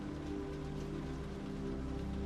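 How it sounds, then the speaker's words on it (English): Steady rain falls onto a surface as a dense, even wash that holds a constant level throughout, with no voices and a low droning layer running beneath it. "The sound of the rain has changed."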